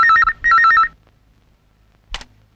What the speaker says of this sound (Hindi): तुम्हारा फोन है घर से बाबा